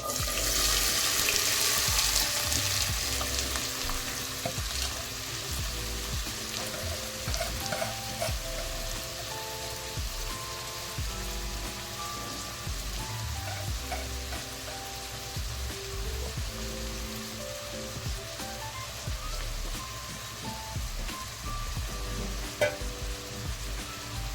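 Chopped onion frying in hot oil for a yoghurt chicken gravy gives a loud, continuous sizzle and crackle, with frequent scraping stirs against the pan throughout and no talk.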